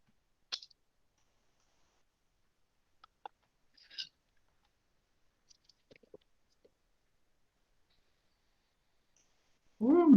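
Computer keyboard keys click in a classroom lesson, a few sparse, quiet taps spread over several seconds amid near silence, before a voice suddenly speaks loudly at the end.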